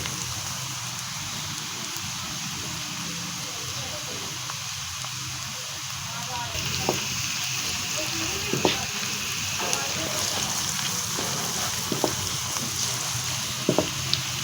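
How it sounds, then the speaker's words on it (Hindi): Onions frying in hot oil in a pan for a turnip and pea sabzi, a steady close sizzle and crackle throughout with a few sharp pops and stirring sounds. "प्याज फ्राई हो रहा है, हम इसको अच्छी तरह से कर लेंगे फ्राई।"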